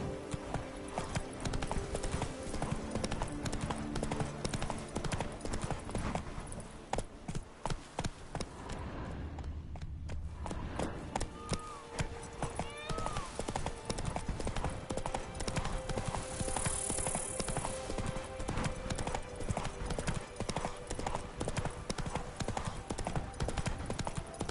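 Geralt's horse Roach gallops in The Witcher 3: Blood and Wine, a dense, steady clip-clop of hooves close up over game music and ambience, broken briefly by a short lull before the pounding rhythm resumes.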